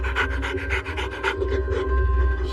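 A cadaver dog pants steadily in quick, rhythmic breaths, close and fairly loud, with a low rumble of background noise throughout.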